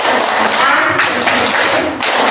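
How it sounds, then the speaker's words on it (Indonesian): Students in a classroom repeat the rhythmic 'tepuk semangat' spirit clap, a loud dense volley of many hands in two quick phrases with a brief break between them. "Satu kali lagi, tepuk semangat."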